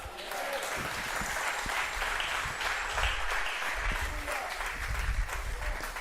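Steady applause from a church congregation, continuous and fairly loud throughout, with no one speaking over it.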